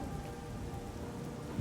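Rain patters steadily in the video game Oblivion, a soft, even wash of drops with a low rumble underneath, heard alone without any talk.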